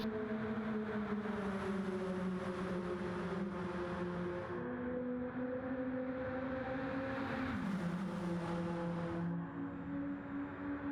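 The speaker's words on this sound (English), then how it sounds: "Here they come down the back straightaway." Race cars from a Daytona racing video game droning past on the back straight, a continuous layered engine whine with shifting pitches, steady and moderately loud.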